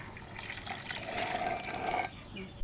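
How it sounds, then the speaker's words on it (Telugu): Water is poured into a clay pot in a steady stream at moderate distance, its pitch rising slightly as the pot fills, before the flow cuts off near the end. "వాటర్ పోస్తున్నారు. ఇలా"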